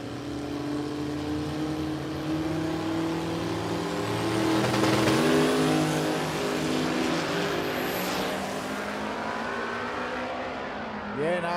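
Radial drag race cars launch at Warwick Dragway in Australia, engines rising into a loud, sustained roar that swells and then fades into the distance, with a brief squeal at the end.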